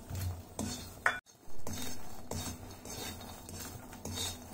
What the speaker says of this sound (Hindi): मखाने को लगातार चलाते हुए थोड़ी देर भून लेंगे, जिससे ये थोड़ी सी क्रिस्पी हो जाए।